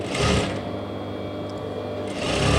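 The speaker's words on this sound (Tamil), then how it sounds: "இப்போ மார்க் பண்ணிட்டு இந்த மார்க் பண்ணுற இடத்துலேயே கரெக்டாக நேராக அடிச்சுட்டு வந்துடலாம்" A sewing machine runs steadily while stitching a lehenga blouse along a marked line, a close, continuous mechanical whirr that swells louder at the start and again at the end of the stretch.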